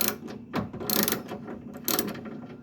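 Ratchet wrench loosening 7/16 bolts on a 1967–1981 Camaro window track, a few quick clicking ratchet bursts separated by short pauses, close up with no talking.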